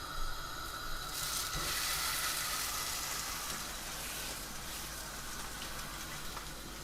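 A burger patty frying in a pan gives a steady, even sizzle and hiss that holds at one level throughout with no talk over it.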